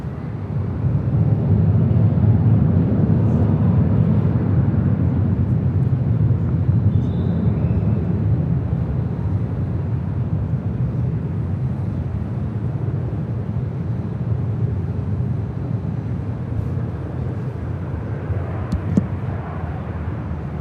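A SkyWest jet takes off from runway 24 left at LAX, heard as a broad, continuous engine roar, loud and steady at first and then easing slightly, with faint wind noise and no talking.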